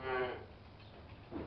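A single cow moos on a farm beside the M40 motorway in Oxfordshire, a clear, fairly close low call at the start, with a fainter second moo trailing in at the end over quiet background.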